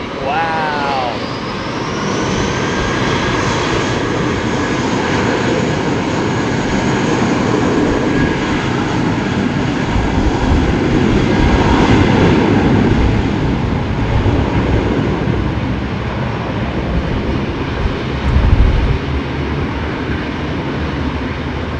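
Qatar and Etihad Airbus A380 airliners landing at Heathrow in windy conditions: a sustained, loud, rumbling jet roar with a rising whine near the start and gusty wind noise, under occasional talk.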